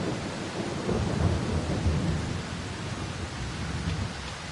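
Thunderstorm with steady rain in the survival horror game Darkwood, a continuous broad rumble and hiss of downpour that swells slightly early on and then eases, with no voices over it.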